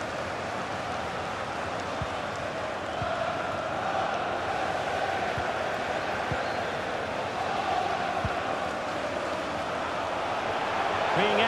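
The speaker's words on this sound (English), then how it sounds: "Being egged on by the crowd." A stadium crowd in a football video game keeps up a steady, dense roar of cheering from start to finish, with no clear breaks or individual voices standing out.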